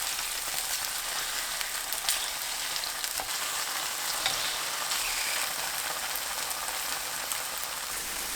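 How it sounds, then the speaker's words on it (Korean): Tofu pan-frying in two tablespoons of cooking oil over medium heat: a constant, dense hiss and crackle of sizzling oil, steady in loudness throughout, close and without any voices. "팬에 식용유 2큰술 두르고 중불로 두부를 구워줍니다."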